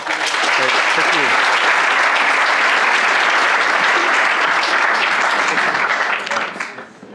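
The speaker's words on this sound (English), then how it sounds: "A big round of applause again." Loud, dense audience applause at a university cleantech pitch competition final, steady for about six seconds before tapering off near the end.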